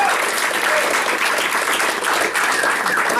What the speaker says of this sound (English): Can we have a round of applause for all the organisers we've had setting up this amazing event?